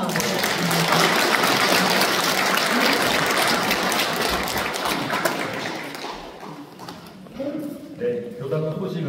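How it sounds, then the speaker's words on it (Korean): Applause at a Won Buddhist temple service, dense and loud at first, then thinning out and fading as the clapping winds down, with scattered voices near the end. "또 박수 한번 드리겠습니다"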